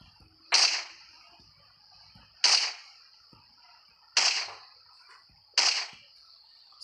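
Four sharp, loud sniper rifle shots in a video game, spaced roughly two seconds apart, each with a bright crack and a short decaying tail over a faint steady tone.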